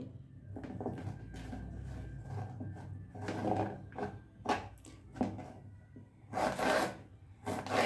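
A knife cuts bitter gourd on a board in a home kitchen, giving soft scraping and rasping strokes with a few sharper chops toward the end, close and quiet.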